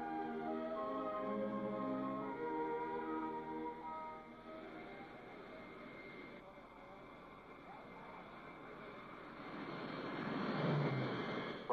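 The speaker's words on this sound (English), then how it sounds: "The presidential jet leaves Fort Worth with a short flight to Dallas" The presidential jet flies out of Fort Worth on a short hop to Dallas, a steady engine drone with a rising roar near the end, while a narrator talks over it.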